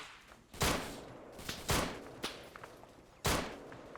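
Gunfire in the tactical shooter Operation Mardi Gras, four sharp, loud shots spaced about a second apart, each with a short echoing tail, over quiet background.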